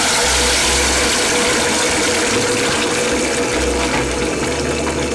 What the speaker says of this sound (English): so you need to pour the blended pepper inside